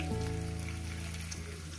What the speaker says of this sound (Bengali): এটা দেখতে থাকুন আমি কীভাবে ভাজছি